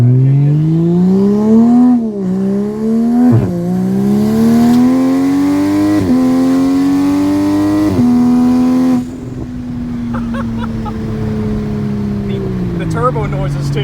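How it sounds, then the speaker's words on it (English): A modified 2020 Toyota Supra accelerates hard, heard from inside the car. The loud engine climbs in pitch again and again, with an abrupt drop at each gear change, then settles to a lower, steadier drone with hissy turbo sounds. "Turbo noises too. Yeah, they're so much more apparent than the stock one is."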